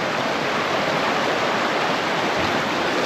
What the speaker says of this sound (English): Pretty river.